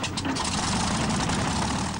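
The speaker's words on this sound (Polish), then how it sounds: "Warkot silników Merlin to coś, czego trzeba doświadczyć samemu." Merlin engines of a de Havilland Mosquito aircraft giving a continuous, dense, loud roar that holds steady throughout.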